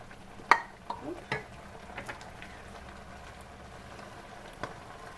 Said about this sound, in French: On racle le plus possible pour récupérer le jus de cuisson